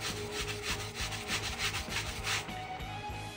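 Replica Para-Military 2 folding knife parts rubbed and polished by hand with grey polishing material, a steady close back-and-forth scrubbing in quick rhythmic strokes, with no talking.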